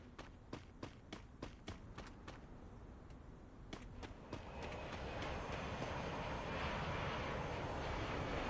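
Airplane in the Free Fire battle royale game passing overhead, a steady broadband roar that swells louder after several sharp repeated game clicks or shots at the start.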